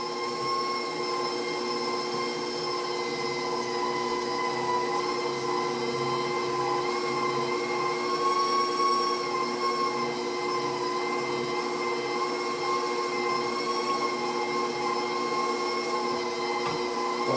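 A KitchenAid stand mixer with its grinder attachment grinds pork in a steady, continuous motor whine with a bright harmonic hum, loud and unbroken throughout with no talking.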